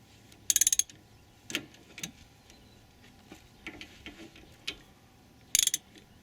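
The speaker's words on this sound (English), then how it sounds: "Turn these pistons in so the new pad will fit into the caliper." Rear brake caliper pistons on a Pontiac Bonneville being wound back in, giving quiet mechanical clicks and ratcheting bursts, with a quick rapid click run near the start and another near the end.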